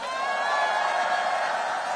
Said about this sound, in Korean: 우리 위대한 우리의 이웃들을 위해서 큰 박수 한번 보내주세요